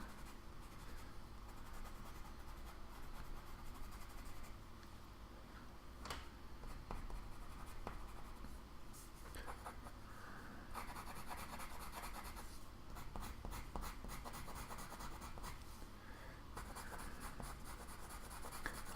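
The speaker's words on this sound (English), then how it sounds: "right now I'm just kind of scribbling" Colored pencils scribbling on paper in quick, steady back-and-forth strokes, a soft continuous scratching close by, alone throughout.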